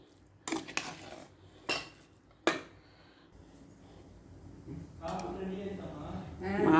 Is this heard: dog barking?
no